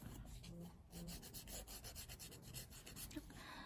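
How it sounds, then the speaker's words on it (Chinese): An electric nail drill files along the side edge of a fingernail, making faint, close, repeated rasping strokes in a steady rhythm with no talk. "可以这样子立起来贴住我们的这个指甲的侧线，然后进行打磨侧边小指甲的一个动作"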